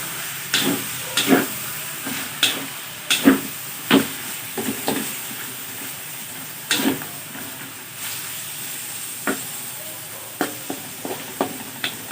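Meat browning in a pan while cooking Ilocano igado at home, a steady background sizzle broken by repeated sharp scrapes and clanks of stirring, with no talking.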